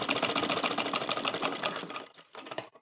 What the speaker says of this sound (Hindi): हमने फिनिशिंग की सिलाई भी कर ली है।